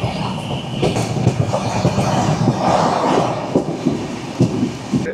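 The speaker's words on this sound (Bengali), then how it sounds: "সময় 5টা বেজে 25 মিনিট, আমাদের ট্রেন পার করছে ডানকুনি।" Sealdah–New Delhi Rajdhani Express running past Dankuni: a continuous rumble and rattle of the carriages, with rhythmic clickety-clack from the wheels on the rails, heard steadily from inside the train with no talk.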